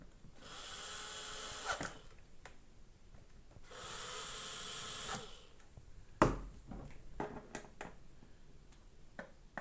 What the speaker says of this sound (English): start screwing, start tightening them.